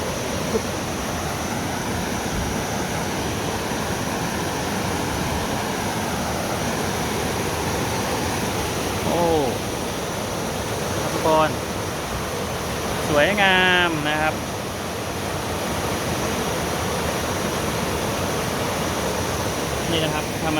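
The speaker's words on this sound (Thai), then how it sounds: "มันมีโขดหิน มีแบบน้ำตกมันไหลแรงนะฮะ" Strong water rushes over rocks in the rapids of the Khek River at Kaeng Bang Rachan, a constant loud churning roar with brief chirps and voices rising faintly over it near the middle.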